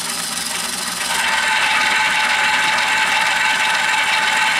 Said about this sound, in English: Here is the Lyman prep station. I'm going to turn it on.